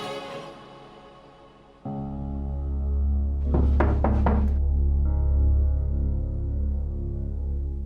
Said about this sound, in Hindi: सोना दरवाजा तो खोलो, मेरी बात तो सुन लो।